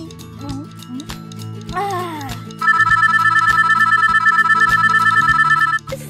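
A telephone ringtone rings loudly in a children's pretend doctor game with plush toys, a steady repeating electronic trill lasting about three seconds over background music and other toy sounds.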